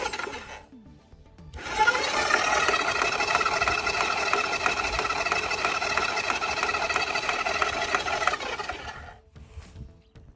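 A Garvee 50 ft by 5/16 inch drain cleaner machine spins its cable with a steady, loud mechanical whirring buzz that starts abruptly, holds for about seven seconds and then cuts off, with no talking.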